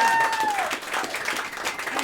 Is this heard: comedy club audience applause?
yes